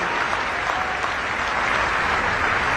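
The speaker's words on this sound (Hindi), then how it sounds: "आपकी हाथ की करतल ध्वनि ने इस पूरे वातावरण को स्पंदित कर दिया।" Audience applause fills the hall as the Prime Minister inaugurates a large private hospital in Faridabad, a dense, loud, continuous clapping from a big crowd that holds steady throughout.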